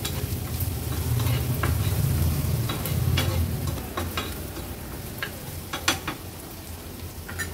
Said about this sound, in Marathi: हळद आणि मसाला कांद्यामध्ये छान परतून घ्यायचे